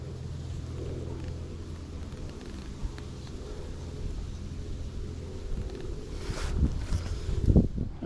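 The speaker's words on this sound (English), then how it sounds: "That wind blows from left to my right." Steady wind buffeting beside the River Thames during a fishing match, a constant low rumble and microphone gusting throughout, swelling briefly louder near the end, with no talking.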